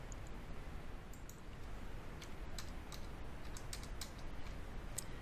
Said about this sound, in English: I'll use the Tab key on the keyboard to move to the next field